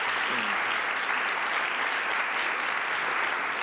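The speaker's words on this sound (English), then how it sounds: "I think that one deserves a little applause." Audience applause at a music livestream happy hour show: continuous, even clapping that holds steady from start to finish and is fairly close.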